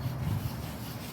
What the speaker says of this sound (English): And then we can start sanding